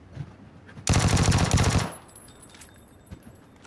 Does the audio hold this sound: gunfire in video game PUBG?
yes